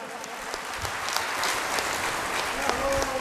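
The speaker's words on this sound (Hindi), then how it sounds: "जोरदार तालियों से इनका पुनः स्वागत।" Applause from a stage audience welcoming guests at a devotional Bhagavat katha event, a steady dense wash of clapping lasting the whole stretch with a faint tonal note near the end.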